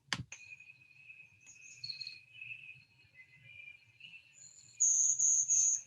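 A recorded bird song plays back, mostly thin high insect-like trills and faint notes, then ends in two louder buzzy bursts. It sounds fairly near against a low murmur.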